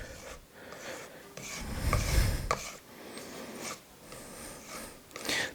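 A knife edge is stropped on a leather strap after 6,000 and 2,000 grit stones, giving soft rasping strokes that rise and fall in a loose rhythm, close and fairly quiet, with no talking.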